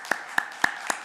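In a church service, four sharp, evenly spaced hand claps ring out in a steady rhythm against an otherwise quiet room.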